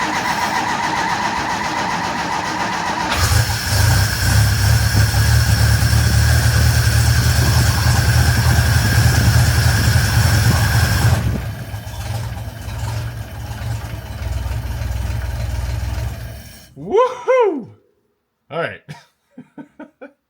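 A small engine on a freshly cleaned and repaired gas tank catches and runs with a loud, steady low rumble for about eight seconds, then settles into a quieter running noise before it stops and a voice speaks briefly at the end.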